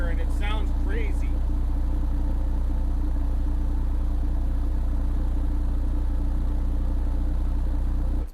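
A Timpano TPT-T3500-15-D2 subwoofer pushed near 600 watts plays a 30 hertz tone, a loud, steady, deep drone that cuts off abruptly at the end, with brief speech at the start.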